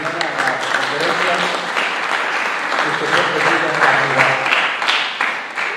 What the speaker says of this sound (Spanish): Yo le quiero que le demos un fuerte aplauso al licenciado Tomás García Hernández